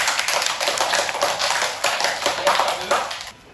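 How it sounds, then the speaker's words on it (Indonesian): Students at a school event clap their hands together in a lively, uneven patter that tapers off at the end, with some talk mixed in. "Oke, tepuk tangan untuk Nak Lintang"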